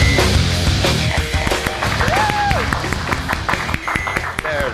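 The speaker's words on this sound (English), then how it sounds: "There's that applause." Loud recorded applause greets show host Al Mancini, dense clapping mixed with sharp hits and a short whistle-like tone, sounding produced rather than live.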